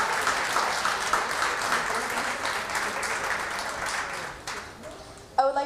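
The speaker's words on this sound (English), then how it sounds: "I would like to ask for a round of applause for all these girls and their hard work" Audience applause for young pageant girls at a community commemoration event, a sustained crowd clapping that fades near the end before a loud, close voice cuts in.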